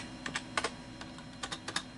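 Quick keystrokes on a Dell desktop keyboard resting on a lap as a DOS command is typed, about a dozen close, crisp clicks in short uneven bursts with no talking.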